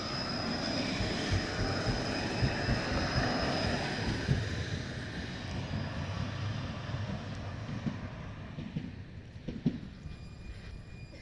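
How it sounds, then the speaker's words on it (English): A Moscow metro train arrives at Partizanskaya station, a loud broadband rumble and roar that builds and then gradually fades as the train slows, with a few clanks near the end and no talk. "The metro is coming."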